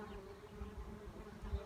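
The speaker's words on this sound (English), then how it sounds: "they're pretty magical little bees" Spring bees give a soft, steady buzzing hum, faint and continuous with a few low thumps, close by and with no talking.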